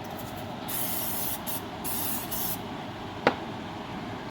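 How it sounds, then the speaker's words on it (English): Short bursts of pressurized butter spray hiss onto a pan, a few quick puffs in a row, with a small clink near the end. "Brush the pan with melted butter, or you can spray it."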